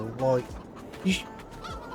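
Farmyard chickens in the Farming Simulator 22 video game cluck in short, fairly loud bursts while players talk over a multiplayer session.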